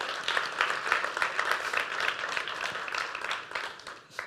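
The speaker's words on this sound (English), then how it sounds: "let's give a big applause to Burak" Audience at a startup conference opening speech in Istanbul applauds for Burak, a steady wash of many hands clapping at moderate distance with no talking over it.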